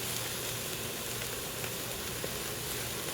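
A thick beer-marinated chuck steak sizzles steadily in a pan, a continuous close hiss of frying that holds even throughout with no pauses or talk.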